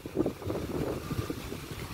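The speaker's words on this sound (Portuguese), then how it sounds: "Olha o vento." Wind blows outdoors at a country farm property, producing a steady, fairly soft gusty rush with buffeting on the microphone and a few low thumps, no talking.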